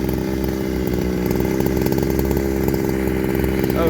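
Chainsaw fitted with a shotgun muffler, its engine snarling loudly and continuously at high revs through a cut, close up with a raspy, buzzing roar.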